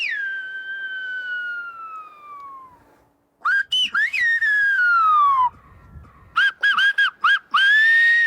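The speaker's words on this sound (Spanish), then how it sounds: "los habitantes de La Gomera se han comunicado mediante el silbo, un lenguaje único y exclusivo de la isla" Loud, piercing Silbo Gomero whistled language on La Gomera in the Canary Islands forms a sequence of sliding, warbling tones: a long falling note, then bursts of rapid rising and falling phrases separated by pauses.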